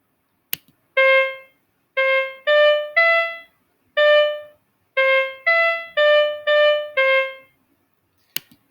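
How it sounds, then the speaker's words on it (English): A woodwind-style melody of Au Clair de la Lune played back in Chrome Music Lab Song Maker: clean, evenly spaced short notes in a simple tune, clear and alone, framed by a click at each end. "if you want to listen to the whole melody, this is Au Clair de la Lune"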